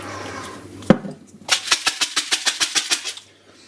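A DF64V coffee grinder running at 1100 RPM: a sharp click, then a train of about ten rapid, evenly spaced whirring pulses that fade out, with no talking.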